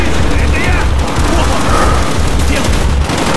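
Call of Duty: Black Ops gunfire rattles in dense, continuous bursts, loud and close, with booming low thuds under a steady wall of shots.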